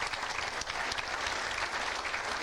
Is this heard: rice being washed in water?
no